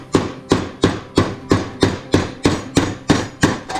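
Mallet strikes on metal muscle car trim laid over a round steel bar, about ten evenly spaced, ringing blows in a steady rhythm, close and loud with no talk.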